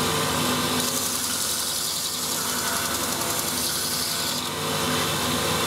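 A woodturning tool is held against a bench grinder, producing a continuous harsh rasping hiss of steel on the wheel that stays loud and close for several seconds without any talking.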